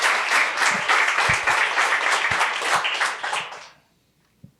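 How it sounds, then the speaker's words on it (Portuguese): A seated audience at a literary festival panel gives dense, sustained applause that fades out near the end, followed by near silence and a single faint knock. "Essas palmas são ótimas"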